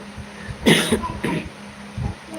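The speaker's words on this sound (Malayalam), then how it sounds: "ചുമയൊക്കെ ഉണ്ട് കേട്ടോ" A person with a cold coughs twice, close and loud, in short harsh bursts, followed by a softer throat clearing.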